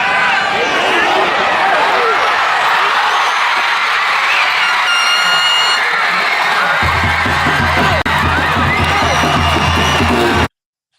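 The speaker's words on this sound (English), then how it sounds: "you can just hear that crowd, man, just exploding" A football stadium crowd roars and cheers during a replayed Detroit Lions play, a loud sustained wash of voices and whoops, with someone talking over it and a low hum joining partway before it cuts off abruptly.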